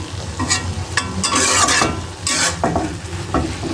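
Fish curry being stirred and fried in a pan, with a loud, close sizzle and repeated scraping strokes of the spoon at an irregular rhythm throughout, and no talking.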